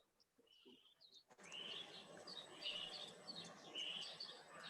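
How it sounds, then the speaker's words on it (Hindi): Koel calling repeatedly from a distance, a series of rising, whistled notes over a soft background hiss, with a few faint chirps before it. "पता नहीं मुझे कौन कोयल की आवाज सुना रहा है"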